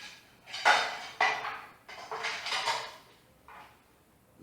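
A spoon scrapes and clinks against a pan while chicken-and-corn filling for a blender pie is stirred, in four or five distinct bursts of metallic scraping with brief pauses between them.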